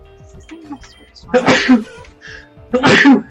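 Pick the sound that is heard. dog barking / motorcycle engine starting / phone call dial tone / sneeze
sneeze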